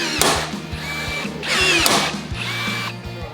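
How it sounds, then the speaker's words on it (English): A rivet gun drives rivets fastening aluminium to steel on a Rolls-Royce Wraith car body, three close, loud pneumatic bursts, each a sharp whirring pull ending in a snap, separated by brief pauses. "Then it's time for the rivet gun to come out."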